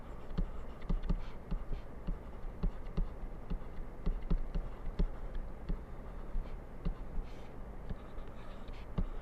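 A pen writing steadily on a surface while subtraction problems are worked out, close, quiet scratchy strokes in a quick repeating rhythm with low background hum.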